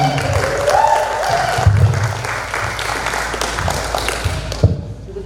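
Audience applause at a stand-up comedy contest, a broad wash of clapping from the crowd with some low thuds and a brief tonal voice or music near the start, fading slightly at the end.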